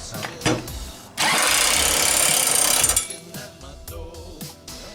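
A John Deere lawn mower engine catches on a single pull, roaring loudly for about two seconds before dropping off, with a few clanks and rustles around it.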